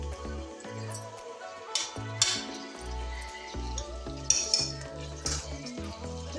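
Green chillies go into hot oil in a pan, a metal spoon clinking and scraping against it as they are stirred, with sharp close knocks over a light sizzle.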